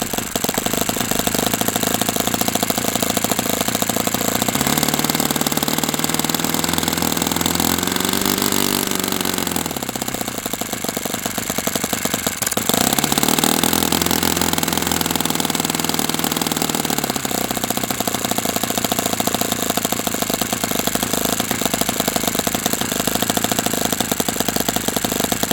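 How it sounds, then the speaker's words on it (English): An OS FS60 four-stroke model aircraft engine runs rich at idle on its first run, a loud continuous buzzing drone that sags and recovers in pitch a couple of times without settling. "So it seems like I'm having issues trying to get 4-strokes to idle this year."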